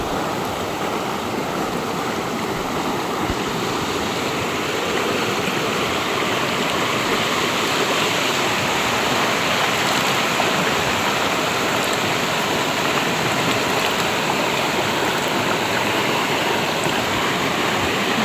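Clear, cold stream water flows steadily and close by in a continuous broadband rush, loud and unbroken throughout, with no voices over it.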